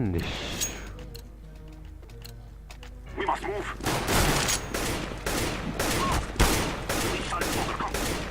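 Rapid bursts of gunfire from the video game CS:GO ring out loud and close in quick, overlapping volleys. A voice talks briefly before the shooting begins.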